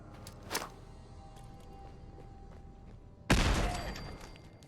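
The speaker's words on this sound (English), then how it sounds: "I'm gonna throw a grenade." A grenade explodes in the video game Fallout 4 with a sudden loud blast and a long rumbling decay, after a quieter thump and steady low background ambience.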